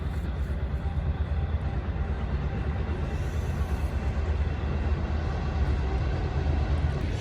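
A passing train produces a steady, continuous rumbling roar that holds at a constant loudness throughout, with no voices and no horn.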